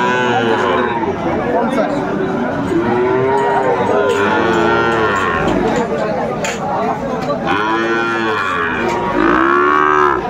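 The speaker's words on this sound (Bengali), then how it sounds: "ষাঁড় বাচ্চা।" Sahiwal bull calf at a Cumilla cattle market lowing in long, loud moos again and again, with steady crowd chatter and voices around it.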